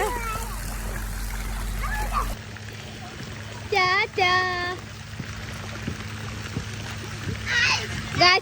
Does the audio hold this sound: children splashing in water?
yes